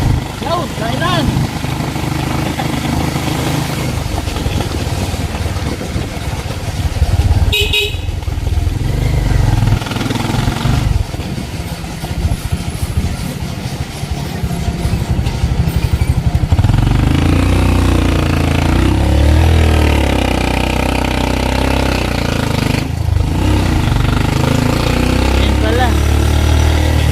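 Motorcycle engine running steadily through a 27-second ride into a subdivision, low rumble continuous and fairly loud throughout with brief clattery bursts, under intermittent talk.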